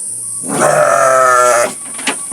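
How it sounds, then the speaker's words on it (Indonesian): A single loud, close bleat from goats in a Sundanese village in West Java, a wavering cry lasting about a second over quiet background. "Banyak nih kambingnya. Montok-montok."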